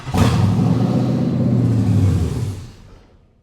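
A carbureted L8T 6.6-litre Gen 5 LT V8 engine running close up, a loud deep rumble that holds steady for about two seconds after a brief rise, then dies away within a second, with no one speaking over it.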